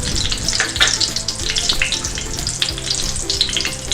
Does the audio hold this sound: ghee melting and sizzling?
yes